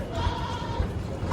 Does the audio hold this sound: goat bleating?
yes